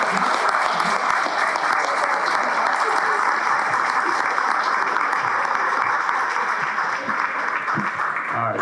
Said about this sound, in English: give MocaFi, give KeyBank, everybody here, Ishmael, a round of applause for having this event